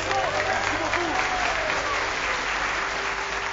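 Audience applause on a French television programme, a steady, dense wash of clapping running throughout, with faint voices and tonal sounds mixed in underneath.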